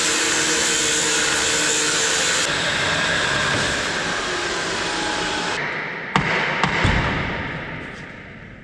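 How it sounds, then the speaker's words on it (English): Bolts being cut through to free the water tank from a fire engine being dismantled, a steady loud grinding or cutting roar that holds for several seconds, then thins out into a few sharp clanks near the end. "it's time to cut through the bolts, get that tank off."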